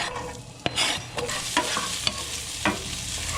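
Onions, garlic and herbs sizzle in a pan for a Chicago-style deep dish pizza sauce, a loud close crackle punctuated by several sharp scrapes of a spoon stirring, with no voices.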